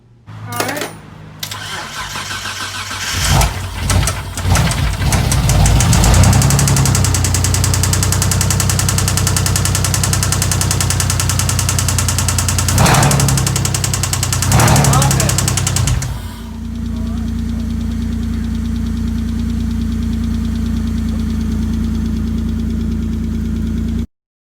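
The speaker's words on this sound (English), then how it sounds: "it had a horrendous rod knock" A Mitsubishi 3000GT SL with a badly worn engine cranks and fires into a loud, rough run, then drops to a steady idle with a heavy rhythmic rod knock beneath it; voices speak briefly near the start.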